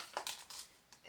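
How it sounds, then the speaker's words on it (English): Scissors cutting zipper tape while a clear pouch is being sewn, with a few quick, faint snips and rustles spaced unevenly. "our zipper tape down a bit"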